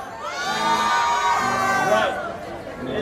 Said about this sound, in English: Can I have that cheer, everyone?